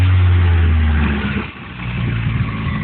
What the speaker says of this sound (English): I'm sure you can hear it pretty good, but just tap the throttle.